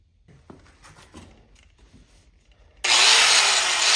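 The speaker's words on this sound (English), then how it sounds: "if you're gonna use a grinder, be sure and plug it in" An angle grinder whines loudly to life near the end, cutting metal during a 12-volt alternator install on a 1951 Allis-Chalmers WD tractor, after a stretch of quiet clinks and handling noises.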